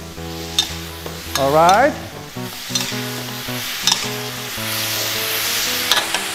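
Chopped onion stir-fried in a hot pan for cashew chicken, giving a steady, soft sizzle with scooping and stirring, partly under background music, and a brief spoken remark.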